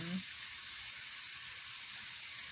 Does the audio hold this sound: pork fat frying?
yes